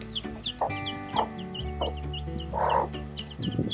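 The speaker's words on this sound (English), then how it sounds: "Yeah, you're a good little mama hen, aren't you?" A broody mother hen clucks in short, close, repeated bursts, one louder throaty call rising near the end, with no voices.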